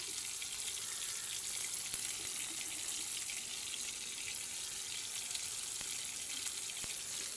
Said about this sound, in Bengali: আম্মু মাছগুলা ভাজা নিতেছে